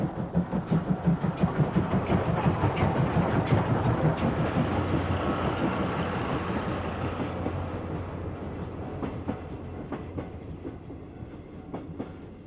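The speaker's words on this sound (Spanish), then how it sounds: "aparecen numerosas locomotoras japonesas a vapor que han sido preservadas" A preserved Japanese steam locomotive and its train run past with a steady rumbling roll and rhythmic clatter, loud at first and then gradually fading as it draws away.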